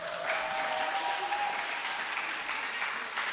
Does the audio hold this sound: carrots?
no